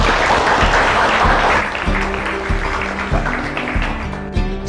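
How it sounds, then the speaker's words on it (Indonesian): An audience at an Indonesian stage show claps loudly for about two seconds, then the clapping thins out under a rhythmic, pulsing musical backing. "Ya, tepuk tangan."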